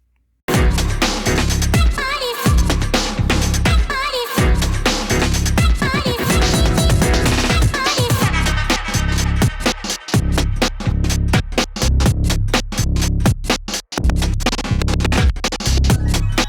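Loud, dense unmastered electronic breaks mix plays back without dynamic processing, with driving beats and a full, busy texture throughout, with a few brief dips.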